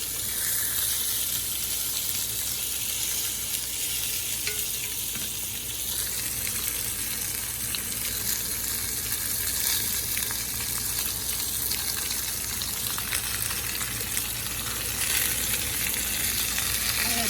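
Steak fajitas searing in a hot pan to char, a loud continuous hissing sizzle that holds steady throughout, close up, with faint occasional stirring and no speech.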